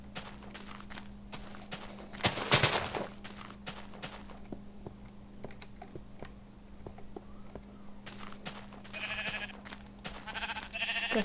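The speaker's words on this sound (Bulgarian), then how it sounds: "Кафява овца." Sheep bleat in Minecraft, with one louder bleat early and a pair of short bleats near the end, over soft footstep-like clicks and a low steady background hum.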